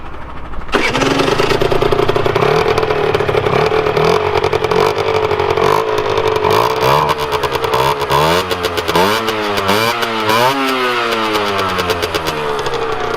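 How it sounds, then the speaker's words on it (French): A Yamaha TZR 50cc motorcycle with a Top Perf 50 kit starts up close by and settles into a loud, buzzy two-stroke idle, then revs in repeated rising and falling blips. "on va vous faire écouter un petit peu le bruit, les gars. Je te laisse la démarrer, frérot."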